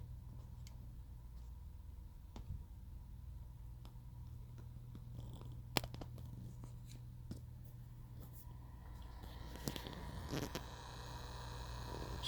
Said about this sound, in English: So that's the head movement.